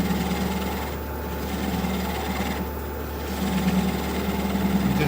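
A wood lathe spins a walnut hollow form with a steady mechanical whir and a low hum. The tone shifts slightly as it runs, and brief quieter stretches suggest the tool lifting off the wood. No one speaks.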